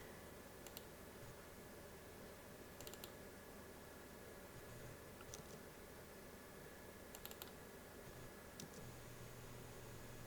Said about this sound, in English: So that's library room tone.